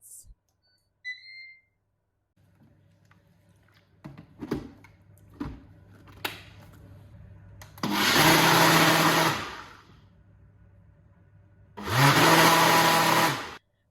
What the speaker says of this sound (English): By using my Ninja blender, it is beautifully smooth.